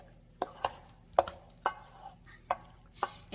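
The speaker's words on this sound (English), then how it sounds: "I'm going to stir that in." Canned tomatoes with their liquid are stirred into a stuffed bell pepper filling, heard as a run of soft, evenly spaced scraping taps of a spoon against a bowl, close and fairly quiet.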